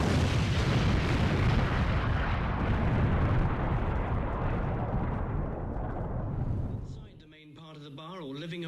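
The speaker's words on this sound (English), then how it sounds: "The bomb exploded without any warning." A bomb detonates outside a pub, a massive sustained roaring blast and rumble that fills everything, loud and close, fading abruptly before a musical tone rises near the end.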